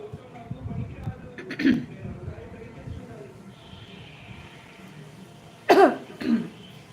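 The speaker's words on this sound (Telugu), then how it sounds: "కొంచెం జలుబుగా ఉంది, అందువల్ల దగ్గు వస్తుంది" A person with a cold coughs: one harsh cough early on, then a pair of close coughs near the end, with low murmuring and quiet room noise between them.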